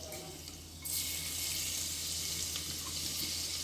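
Crushed garlic cloves hit hot oil and start frying for a varan dish, a sudden burst of broad sizzling hiss that then holds steady and fairly loud, with no talking.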